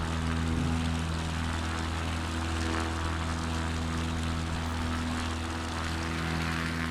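Cubcrafters XCub propeller plane in Microsoft Flight Simulator 2024, a steady, loud engine drone with strong low harmonic tones that holds evenly throughout while climbing out after takeoff.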